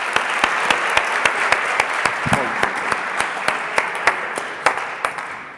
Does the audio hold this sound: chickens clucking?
no